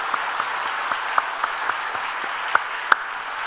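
A church congregation applauding during a Sunday worship service, a steady even wash of many hands clapping with a few sharper individual claps standing out.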